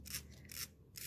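A hand file rasps across metal earring wire to take off a burr, three short quiet scraping strokes in an even rhythm, close and alone.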